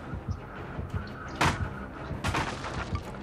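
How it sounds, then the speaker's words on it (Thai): Inside Dead by Daylight, a wooden board cracks and tumbles down from above, giving a loud sharp crash followed by a second clattering impact over steady game background noise. "โอ้โหแผ่นไม้กระเด็นลงมาข้างล่างเลยว่ะ"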